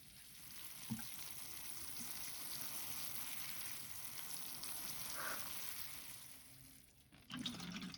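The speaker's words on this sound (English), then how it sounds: "let's get some water on this" Water is poured steadily onto a Chinese elm bonsai in its pot, a soft continuous splashing and trickling that lasts several seconds before tapering off near the end.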